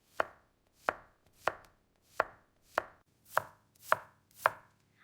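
A kitchen knife chops onions in eight crisp, evenly spaced strokes, each a sharp board-striking thud, with no other sound around them.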